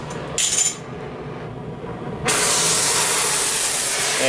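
A torch heating clamped metal gives a steady roaring hiss. A brief burst comes first, then a quieter stretch, and the flame jumps to a loud, sustained roar up close.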